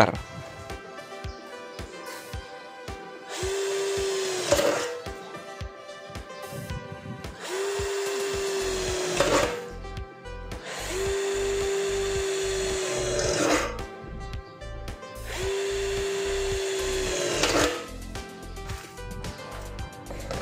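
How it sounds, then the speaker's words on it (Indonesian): Bitec BID1 cordless impact drill on high speed boring through 1 mm light steel: four bursts of whining motor with a screeching bite, separated by short pauses, with regular clicking ticks between runs. "Saya akan mengujinya menggunakan mode drilling untuk percepatannya di high. Untuk media pengeboran adalah baja ringan dengan ketebalan 1 mm."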